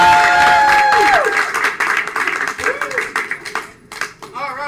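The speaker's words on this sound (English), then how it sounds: "So with a loud round of applause, let's welcome back in our" An improv comedy show audience claps loudly to welcome the players back onstage, with a burst of crowd applause that thins into scattered claps under a voice, while a sliding musical tone sounds at the start.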